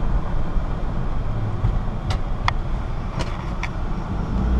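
A 2003 Sprinter conversion van with 26k miles accelerates hard, its engine and road noise a steady, loud low roar throughout, broken by a few brief higher-pitched clicks and squeaks.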